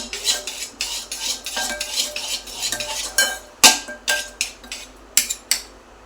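A spoon scrapes and clinks rapidly against a bowl while red pumpkin batter is stirred, a busy stream of bright metallic taps and swishes with a few sharper knocks near the end.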